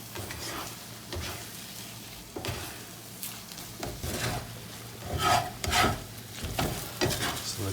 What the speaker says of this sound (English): you just kind of stir them fairly constantly until it's this kind of scrambled egg sort of thing